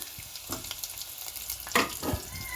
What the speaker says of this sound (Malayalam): ഇനി പച്ചമുളക് ഇടുക